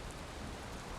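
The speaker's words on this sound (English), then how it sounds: "It's raining." Rain falling in Valheim, a dense, continuous hiss of steady downpour filling the whole moment with no other sounds standing out.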